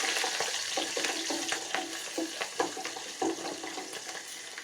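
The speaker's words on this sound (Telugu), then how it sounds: "జీడిపప్పు అది బాగా వేపుతున్నాను" Cashews and green chilies fry in a pan with a steady sizzle under light, scattered ticks and scrapes from stirring.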